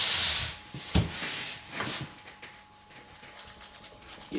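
Short rubbing strokes of a WoodRiver V3 No. 4 1/2 smoothing plane iron drawn across a 9 micron fine abrasive to take off a burr, a loud opening swipe, then a few brief scrapes, close and unaccompanied.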